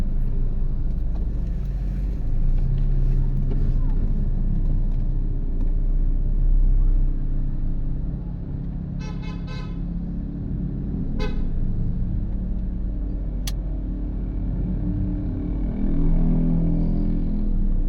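Busy street traffic with a steady low engine rumble from cars and trucks, broken by a few short car horn toots midway, continuous throughout with no talk.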